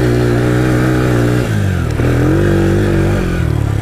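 ATV engine droning steadily up close while riding a drying trail in England, pitch easing and shifting as the throttle changes, loud and continuous with no talk.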